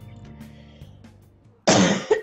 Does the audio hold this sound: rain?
no